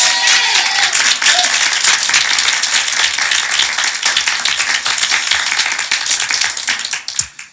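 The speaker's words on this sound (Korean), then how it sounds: "먼저 우리 하나님께 박수로 영광을 돌리겠습니다." A Korean church congregation at a Sunday morning worship service bursts into loud, close, continuous applause that holds for about seven seconds, then stops abruptly with a last few claps.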